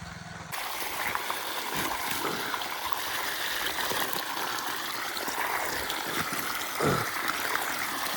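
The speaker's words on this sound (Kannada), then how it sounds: "ನೀರು ಬಂತು ನೋಡ್ರಿ. ಇವಾಗ ನೀರು ಹಿಂಗೆ ಹೋಗ್ತದೆ." Steady rushing irrigation water, pumped by motor, flows continuously into a field, with a few brief gurgles and splashes rising above the constant broadband wash.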